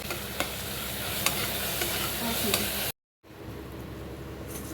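A spoon stirs mushroom biryani masala in a pot with a steady sizzle and scraping, a few sharp clinks and a brief cut near the end, quiet and close.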